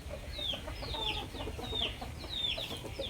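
Gamecock chickens clucking, with a rooster's short calls repeating through a steady farmyard background at moderate distance.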